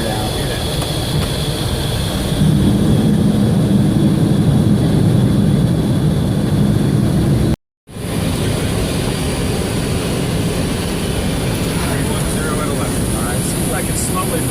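Boeing 727 cockpit on approach to Cabo, Mexico, with the landing gear being lowered: a loud, steady broadband roar of airflow and engines fills the cabin, swelling with a low rumble, briefly cutting out, then continuing as constant noise.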